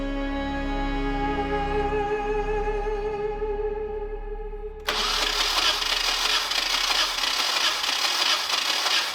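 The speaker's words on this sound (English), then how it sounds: "Doing a compression test again before we try to fire it up" The engine of a Nissan 240SX project car cranks steadily for several seconds with a pulsing starter drone during a compression test, then cuts off abruptly into a broad hiss of background noise.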